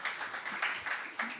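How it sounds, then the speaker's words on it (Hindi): Crowd applause from an audience of Chhattisgarh residents at a youth forum event, a steady wash of clapping with a few swells over a second and a half. "छत्तीसगढ़ की जनता आपका भी तालियों की गड़गड़ाहट से अगर एक बार बजा दे"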